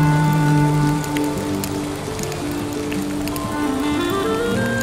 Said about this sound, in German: Und natürlich regnet es.